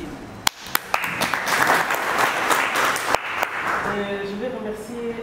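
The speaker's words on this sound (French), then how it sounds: "Donc on peut aussi vous applaudir." An audience at a French-language youth leadership and entrepreneurship training claps warmly, opening with a few sharp individual claps before swelling into steady group applause that fades as a voice begins speaking.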